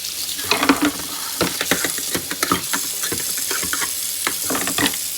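A hot pot of sugary nectarine jam is set into water in a kitchen sink to soak, giving a steady sizzling, steaming hiss broken by clattering knocks and clicks, with no talking.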